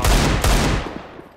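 Desert Eagle pistol shots in a video game, two loud close reports in quick succession, each trailing into a fading echo.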